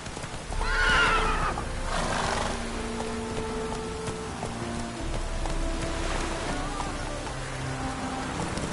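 A horse neighs loudly near the start in The Witcher 3, then galloping hoofbeats carry on steadily under rain-like patter and game ambience.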